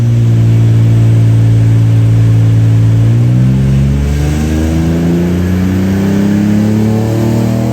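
A Nissan 300ZX twin-turbo engine revs hard on a dyno, loud and continuous, its pitch climbing steadily as the run builds with no talk over it.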